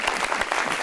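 An audience claps in a brief, dense burst of applause that sounds fairly close and steady.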